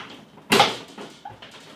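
The door of a Krups Sub Compact beer machine opens with one sharp clack followed by a couple of softer knocks, close and isolated.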